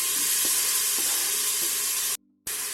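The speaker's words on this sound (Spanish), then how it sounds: "vamos a calentar un poquito el aceite, vamos a echar ya nuestra cebolla y nuestro pimiento" Chopped onion and pepper fry in hot oil in a pan, a steady, loud, dense sizzle with a few faint stirring taps, cut off by a brief silence before the sizzling resumes.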